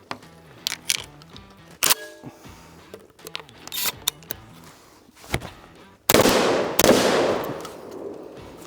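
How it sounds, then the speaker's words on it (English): A Beretta A300 Patrol shotgun fires double-aught buckshot in a string of sharp, cracking reports spaced irregularly, the last two loudest blasts ringing out with a lingering decay. "So that was 10 rounds of this"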